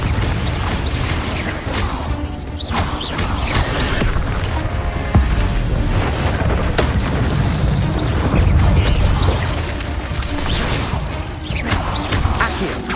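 A Confringo blasting spell in the Hogwarts Legacy video game erupts into loud booms and crashes, joined by whooshes and mechanical clatter across a sustained, noisy battle with little talk.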